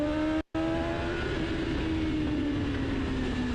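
A BMW S1000RR motorcycle engine pulls hard on the Donington race track, its steady high-pitched drone running near and loud with a brief cut about half a second in before the tone resumes.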